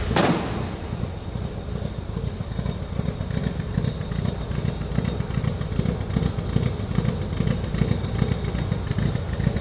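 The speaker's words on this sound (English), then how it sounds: "Thing's got a little bit of a rumble. Let's listen." A 1973 Triumph TR6 convertible's steady, throaty engine idle rumbles close by, with a brief loud start at the beginning and a continuous uneven pulsing throughout.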